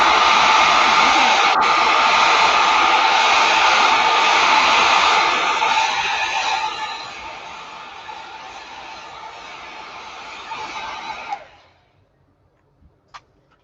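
A hair dryer blows on wet paint in an artist's studio in Pittsburgh: a loud, steady whirring roar that softens partway through, then cuts off abruptly, leaving near silence with a couple of faint ticks.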